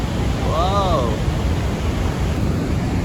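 Athirappilly waterfall roars as a broad, constant wash of falling water, steady and fairly loud, with a brief whistle-like tone over it early on.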